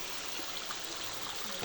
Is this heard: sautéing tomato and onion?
no